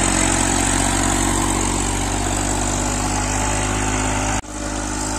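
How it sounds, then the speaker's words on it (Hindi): A Massey Ferguson 7235 tractor pulls a 910 cultivator at full depth with six people standing on it, its engine droning loud and steady without dropping revs until a brief cut near the end. "बहत्तर पैंतीस विद 910 कल्टीवेटर, कल्टीवेटर पे 6 लोग खड़े हैं, फुल डेप्थ है टीलर की, कोई आरपीएम ड्रॉपिंग नहीं है।"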